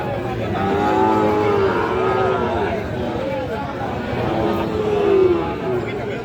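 Sahiwal breed bull calves at a busy cattle market, with a few drawn-out lowing moos rising over crowd chatter and nearby talk.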